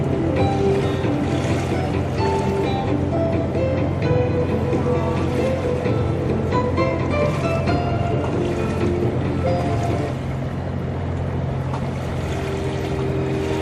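A traditional bumboat cruises upriver on the Singapore River, its engine a steady low drone with water wash over it, continuous and close throughout.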